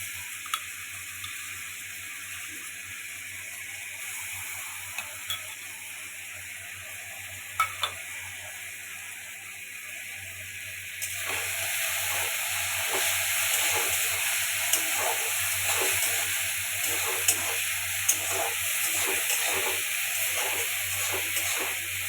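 Tomato fries in a pan with ginger-garlic paste: a faint low hum at first, then a louder steady sizzle with rhythmic scraping strokes for the second half, no talking.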